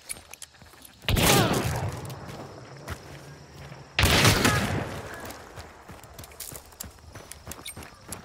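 Two loud, sharp gunshots in Hunt: Showdown, a few seconds apart, each followed by a long rolling echo that fades over quiet background noise.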